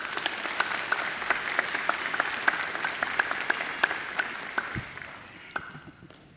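An audience applauding at a Macquarie University graduation ceremony: a steady wash of many hands clapping in a large hall, sustained for several seconds and then fading away.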